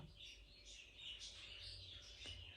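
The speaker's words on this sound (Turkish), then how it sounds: "kuşların sesleri gelir buraya ya" Faint, continuous chirping and twittering of many small birds, somewhat distant, under a low background hum.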